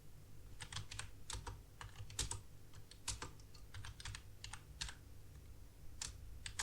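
Code and text being typed on a computer keyboard, a steady run of quick, close key clicks with brief pauses, with no voice.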